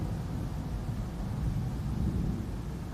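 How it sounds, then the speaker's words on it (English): Thunder during a heat lightning storm rolls as a continuous low, heavy rumble, steady and enveloping like many airplanes passing overhead, with no voices. "And the thunder. It sounds like, 100 airplanes flying over."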